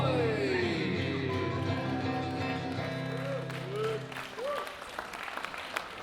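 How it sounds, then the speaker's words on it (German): A senior citizens' afternoon audience at a Palatinate Kerwe fair claps with both hands, a dense burst of applause that fades out, with voices talking over it and afterward. "Wieder super, dass mit zwei Händen geklatscht hat."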